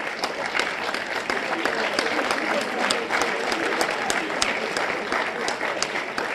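Applause from the crowd at a high school Hall of Fame induction ceremony, loud and close, with many sharp individual claps in a continuous burst that keeps going without a voice over it.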